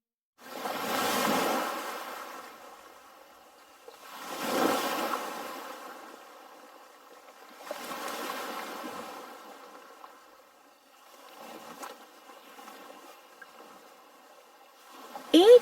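Waves wash onto a seashore in slow, broad surges, one swelling roll every few seconds rising and fading, the last ones softer and more distant.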